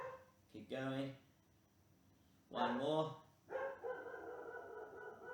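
A dog barks a few times in the background, short sharp bursts spaced apart, while a woman gives exercise instructions.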